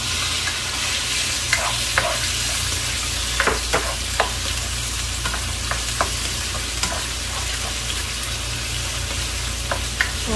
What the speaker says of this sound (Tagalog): So, una kong lutuin yung chicken.